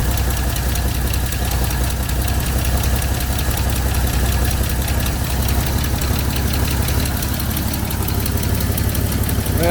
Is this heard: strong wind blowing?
no